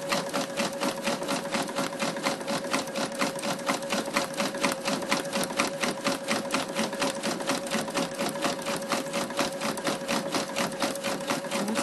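A sewing machine runs a satin stitch around the raw edge of an appliqué, its rapid, even needle clatter continuous and close throughout, with a steady motor hum underneath.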